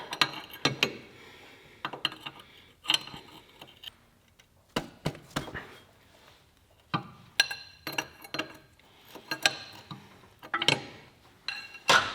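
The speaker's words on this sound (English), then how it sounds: "we're going to get in here with a 24mm wrench and we're going to break that thing loose" A 24mm wrench works at a fitting on a Kubota BH77 backhoe spool valve in a tight spot, giving a string of sharp metallic clicks and ratcheting clanks in irregular bursts with quiet gaps, close by.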